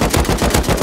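Loud, close automatic gunfire fills a video game match in a rapid, even burst of about a dozen shots with no pause between them.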